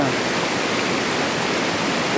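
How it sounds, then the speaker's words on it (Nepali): Heavy rain pours down in a dense, unbroken hiss, loud and close, with no pauses or voices. "पानी परिरहेको छ यार"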